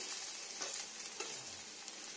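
Bitter gourd frying in a little oil in a home kitchen, a steady close hiss and sizzle with a few soft stirring scrapes and no talking.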